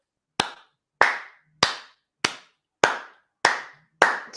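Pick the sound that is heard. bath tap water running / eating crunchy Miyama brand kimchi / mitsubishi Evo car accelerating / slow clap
slow clap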